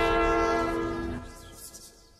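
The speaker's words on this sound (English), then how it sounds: "I was right, a train did hit me." A train in a video game blares its horn loudly with sustained harmonic tones, then the horn cuts off and fades into quieter rumbling and clatter.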